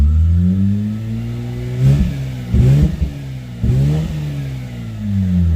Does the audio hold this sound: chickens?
no